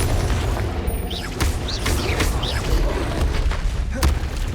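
Blasting spell explosions in Hogwarts Legacy land as repeated booming bursts with sharp crackling pops and swooshing sweeps, fairly loud and closely spaced.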